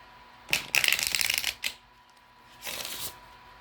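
Oracle cards riffle and flutter in a quick crisp shuffle, a brief tap, then a second softer shuffle burst a moment later.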